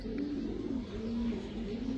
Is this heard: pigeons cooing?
yes